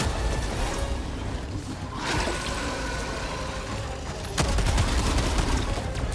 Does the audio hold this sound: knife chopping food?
no